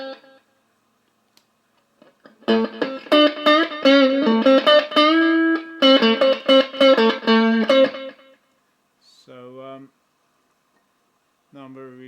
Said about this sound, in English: you move this quite easily, the slider, to whatever delay you want, and the number of repeats.